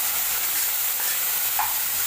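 Mustard seeds and fenugreek sizzling in hot frying oil while a Tamil okra curry is being made, with a continuous close, bright hiss and faint crackles and no talking.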